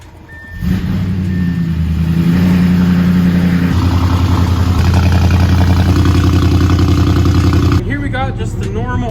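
An Audi S6 with a muffler delete cranks and fires into a loud, rumbling cold start, settling into a high fast idle with deep exhaust burble before dropping in pitch.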